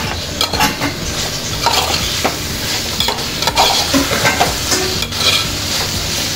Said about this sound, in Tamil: இப்போ இந்த கிழங்கையும் இதில் சேர்த்துருவோம். சேர்த்து எல்லாம் வந்து நல்லா ஒன்றா மிக்ஸ் பண்ணிடுவோம்.